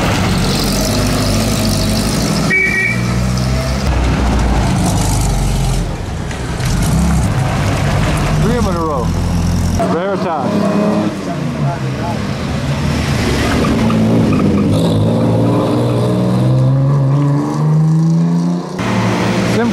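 Vintage cars at the Mille Miglia road race, including a Porsche, pass loudly one after another with engines revving and rising and falling as they go by, under steady crowd chatter and talk.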